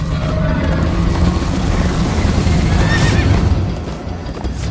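A horse neighs and gallops in Minecraft Story Mode, with a loud whinny over steady clip-clop hoofbeats and a rumbling game soundscape throughout.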